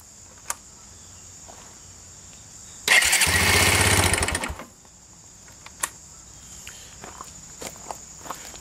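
Kawasaki Bayou 220 ATV engine cranking with a new starter fitted: a sudden loud, rough mechanical burst lasting about a second and a half before dropping away, with faint clicks and light handling sounds before and after.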